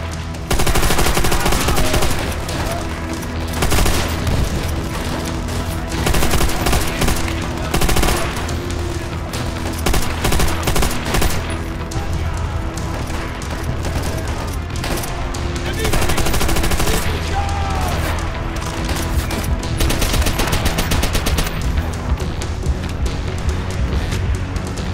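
Machine gun fire in Call of Duty: World at War, rapid repeated bursts rattling nearly nonstop over a busy battlefield, loud and close, with someone talking now and then.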